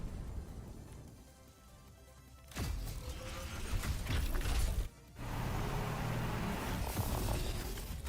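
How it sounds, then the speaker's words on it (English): Truck and transformation effects from a Transformers skin in Overwatch 2: mechanical whirring, ratcheting and gear-like clunks and creaks, with a sharp louder burst partway through and a brief cutout before the clanking resumes. "And you only get the truck noises and transform like this."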